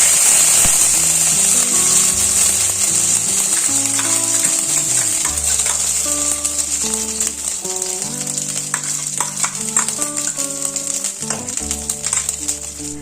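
Ground ginger frying in hot ghee for a homemade ginger candy, a loud steady sizzle close up with occasional spoon stirring, and faint background music underneath.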